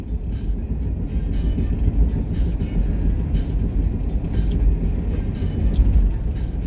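Car interior drive past a football stadium in the Detroit area, with a steady low road and engine rumble filling the whole stretch, loud and continuous with no talk over it.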